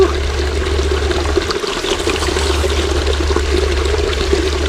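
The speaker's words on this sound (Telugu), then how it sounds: "మేఘాలయ అడవుల్లో స్వచ్ఛమైన నీరు" Clear water runs through a forest stream in Meghalaya, a close, continuous rush and trickle that carries on without a break and sounds fairly loud and near.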